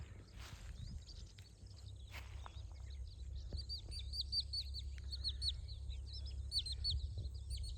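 Birds chirp and call repeatedly in bright, high bursts over a steady low rumble of outdoor background noise, with a couple of louder calls early on.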